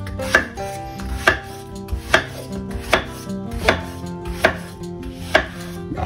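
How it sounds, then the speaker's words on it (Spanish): A knife chops cucumber into small pieces in a slow, even rhythm of about eight crisp, close thuds spaced under a second apart, alone without talk. "vamos a partir el pepino en varios trocitos."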